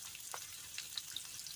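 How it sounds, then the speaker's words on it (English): Onions frying in hot oil for steak fried rice, a soft, steady hiss and crackle with small pops, fairly quiet and even throughout. "We're just going to start by putting some of these onions in."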